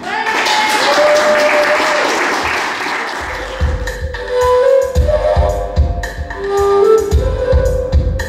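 A concert audience at Swizzeridoo 2017 applauds, with a dense wash of clapping through the first half that thins into scattered, louder individual claps while other sounds break through.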